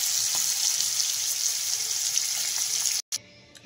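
Paneer frying in hot oil, a steady bright sizzle holding for about three seconds before cutting off abruptly, then a quieter fainter crackle.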